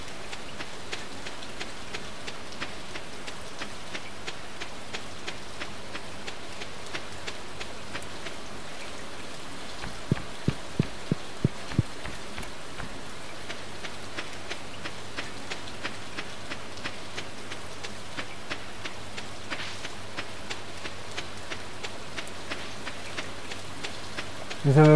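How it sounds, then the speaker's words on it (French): Steady rain patters continuously in Stardew Valley, a dense hiss of drops with a brief cluster of low thumps midway and faint ambient hum underneath. "Cool, il pleut."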